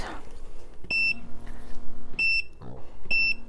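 A charged portable hand massager running on a timer, giving a few short electronic beeps at intervals over a quiet mechanical hum, with a brief soft rustle between them.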